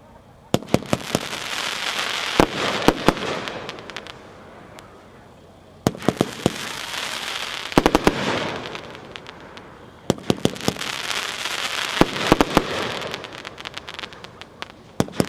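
A Miracle 20-shot firework cake goes off outdoors at a product demo, with repeated sharp bangs and crackling bursts in three clusters and voices faintly in the background.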